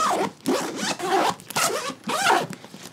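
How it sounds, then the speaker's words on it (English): YKK zipper on a PGYTech OneGo camera bag is pulled in several quick close-up strokes, each a crisp ratcheting rasp separated by short pauses. "zippers sound great."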